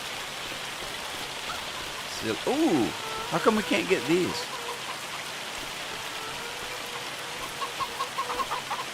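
Hail patters steadily and densely throughout the game Farming Simulator 25, set at a North Dakota forest river, while a voice speaks briefly over it with a few short tonal calls in the middle.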